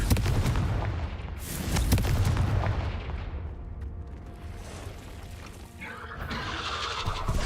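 In the Hogwarts Legacy video game, the Confringo fire spell explodes in a series of deep booms and blasts, with rumbling bursts near the start, a quieter dip in the middle and crackling debris toward the end.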